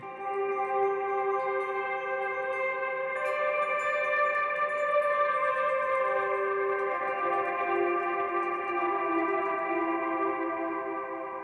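An electric guitar on the bridge pickup with the tone knob turned down rings through heavy reverb, sustained chords blurring into a dense shimmering wash that holds steady and fades slightly at the end, with no voices.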